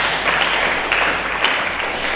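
Church congregation applauding during a sermon, a short, loud and dense burst of clapping heard alone.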